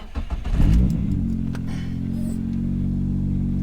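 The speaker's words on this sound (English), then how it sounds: "We're gonna start up the car" A Nissan B13 Sentra 1.6T engine cranks briefly, catches, and settles into a steady, low idle rumble that continues evenly.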